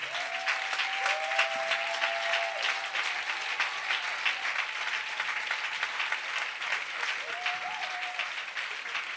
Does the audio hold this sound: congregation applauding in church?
yes